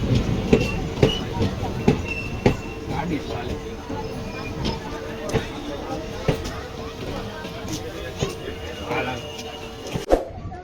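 A passenger train from Ramdevra rumbles steadily with repeated rhythmic clacks from the wheels, while people talk nearby.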